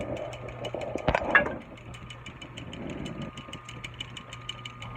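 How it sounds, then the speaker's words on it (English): Gears turning on a woodworking machine that duplicates hickory axe handles: a steady, close mechanical hum and rumble with a brief clattering knock early on, then an even drone. "if I turn this one on, okay, you can see the gears here running"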